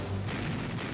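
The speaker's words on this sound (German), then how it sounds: "donnerten ihre Kanonen erneut" Naval guns of the battleship USS Texas firing, a loud, dense booming roar that fills the whole moment without a break.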